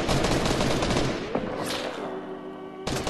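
Rapid gunfire in the video game Fortnite, a dense burst of loud overlapping shots that fades into a brief ringing tail before another crack cuts in, with no talk.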